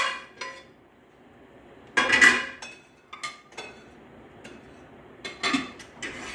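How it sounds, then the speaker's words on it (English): Cooked fried rice being moved into a container, with a few scattered clinks and scrapes of a utensil against pot and dish, short bursts separated by quiet gaps. "So I'm just going to put this in a container so they can stay hot or warm"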